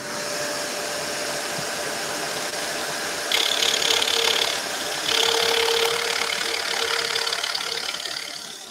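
A scroll saw cuts a wooden nativity scene with a continuous mechanical buzz and rattle that swells louder in two stretches as the blade works through the wood.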